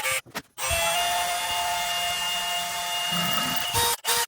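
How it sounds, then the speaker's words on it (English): A 21/64 drill bit bores a hole on a 6.7 Cummins swap into a 2nd Gen truck, a steady, loud whining drill run lasting a few seconds, with brief stops and starts at the beginning and end. "So let's go ahead and start drilling."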